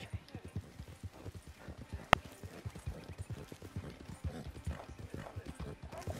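Horse hooves in Red Dead Redemption 2 Online clip-clop in a fast, steady galloping rhythm, close and fairly loud throughout, with one sharp click partway through.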